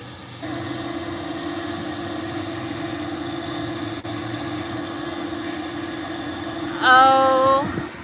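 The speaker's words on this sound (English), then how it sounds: "This is the pump." A paint sprayer pump runs with a steady mechanical drone and hum outdoors by a wrought iron fence, holding constant, with a brief rising whine near the end.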